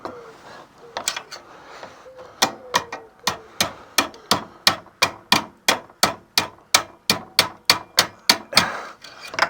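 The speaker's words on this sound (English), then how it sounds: "I'm just going to try and tap that up a little with this hammer" Steady, sharp hammer taps on a metal spring clip of a caravan breakaway cable, about two per second, ringing close and loud after a few quieter knocks.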